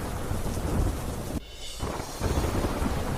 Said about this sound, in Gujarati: ધોધમાર વરસાદ વરસતા ખેતરોમાં ભરાયા પાણી